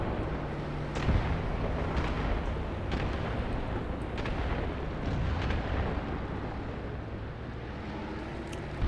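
Hand grenades and other explosions in Graviteam Tactics, a WWII tank battle game, as a dense, continuous wash of rumbling blasts and booms across the field, with several sharper bursts standing out, loud and sustained throughout.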